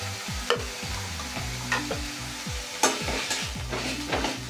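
Onion, garlic and ginger paste frying in a pan, a steady sizzle broken by repeated scraping stirs, close and fairly loud with no talking.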